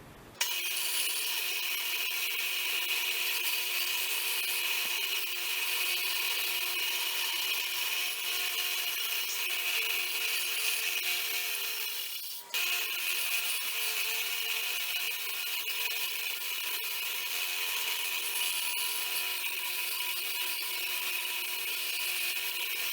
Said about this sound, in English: we're scuffing up the little pins and the mosaic pins with 80 grit sandpaper